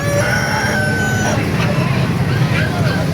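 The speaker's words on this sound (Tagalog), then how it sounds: "Ay, halo pang manok." A rooster crows over a noisy outdoor market scene, with chickens clucking and a low murmur of voices and traffic in the background.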